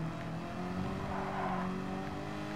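Turbocharged Chevrolet Camaro racing in Gran Turismo 7 during an FR North American cup event, its engine a steady droning hum held at even revs, moderately quiet and continuous with no voices over it.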